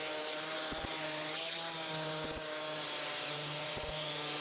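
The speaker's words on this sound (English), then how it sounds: "I did a quick sanding up to 120 grit" Wooden box pieces for a mid-century modern coffee table being power-sanded up to 120 grit, a steady continuous whine with a few brief rhythmic dips, close and loud with no talk.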